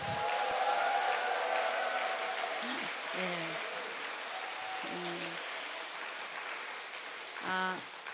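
Applause rolls through a congregation at a prayer gathering, steady clapping over the whole stretch while a voice speaks intermittently and a brief tonal sound rises near the end.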